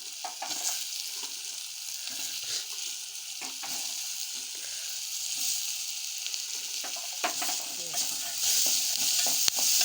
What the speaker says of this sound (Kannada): ಆಮೇಲೆ ಈ ಕಾಳು ಸುಡಬೇಕು. ಈ ಕಾಳು ಇದ್ರಾಗ ಹಾಕಿಬಿಡೋದು.